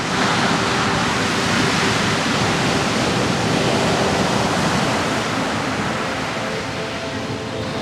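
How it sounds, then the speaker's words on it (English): Big ocean waves break on a beach in Todos Santos, Baja, making a dense, steady roar of surf that fills the whole stretch at constant loudness. "The waves here are very big"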